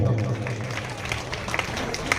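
An audience claps at a school gathering, a scattered, moderately loud patter of hands running steadily under someone speaking.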